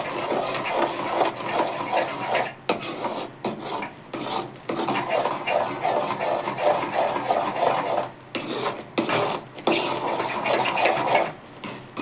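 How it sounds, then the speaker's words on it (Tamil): A spoon scrapes and stirs urad dal powder into boiling jaggery syrup in a pan, close and continuous, with brief pauses between strokes. "இப்படியே கிண்டிக்கிட்டே இருக்கணும்,"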